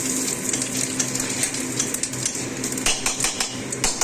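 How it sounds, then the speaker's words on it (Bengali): Whole cumin seeds tempering in hot oil for a rui fish curry, with a soft sizzle under clinks of a utensil against the pan and a brief stir near the end. "এবার এই তেলে আমি এবার গোটা জিরে ফোড়ন দিয়ে দিচ্ছি"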